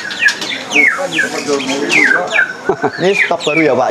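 Murai batu (white-rumped shama) songbird at close range, loud whistled phrases and rapid chirps repeating throughout, with someone talking briefly partway through.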